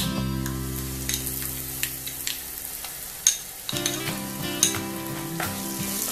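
Spice powders sautéed in a pan over medium flame for a spicy red fish curry give a low sizzle, broken by scattered clicks and scrapes of stirring and a steady hum underneath; no one speaks.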